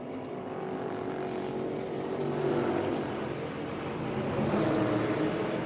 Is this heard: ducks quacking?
no